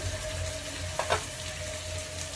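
Prawn curry with tomato, drumsticks and turmeric cooking in a pan: a soft, quiet sizzle runs throughout, broken near the middle by two brief scraping strokes of a spoon stirring the mixture.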